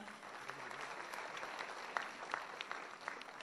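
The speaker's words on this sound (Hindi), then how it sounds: "जोरदार तालियां।" Applause from an audience at an album launch: quiet, somewhat distant clapping with a few sharper individual claps standing out.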